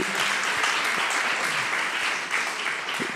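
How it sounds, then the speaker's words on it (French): An audience at a conference event applauds the guests with steady, dense, sustained clapping that fills the hall. "Ils étaient vos invités, vous pouvez les applaudir."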